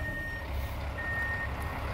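A large truck reversing on a toll road, its steady high backup beeps repeating at a distance over low road rumble.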